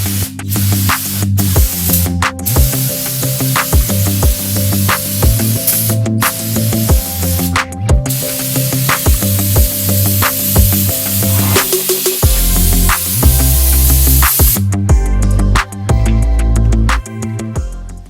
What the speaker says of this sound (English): now I'm just going to hit it with some brake cleaner